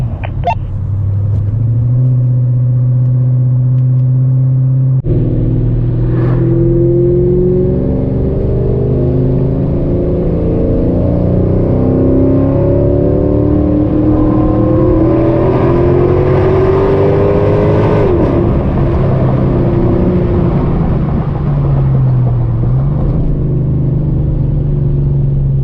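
A Mercedes E55 AMG with a bigger throttle body and long tube exhaust, heard from inside as the engine pulls hard through the gears, loud rising drone broken by a shift, then easing off.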